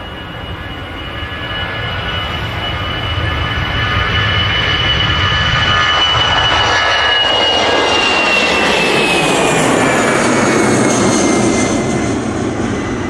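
A loud EasyJet airliner departs Manchester Airport for Belfast, its engine roar building and holding steady with a rising whine as it climbs, heard alone without talk.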